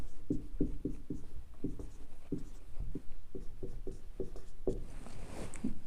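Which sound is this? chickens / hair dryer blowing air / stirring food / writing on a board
writing on a board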